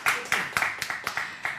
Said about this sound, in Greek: να τους δώσουμε το πιο μεγάλο χειροκρότημα αφού πω τα ονόματα όλων